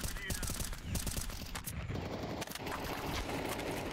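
Rapid gunfire crackles in a Counter-Strike 2 match on the Ancient map, with dense bursts of shots up close and a voice talking over them.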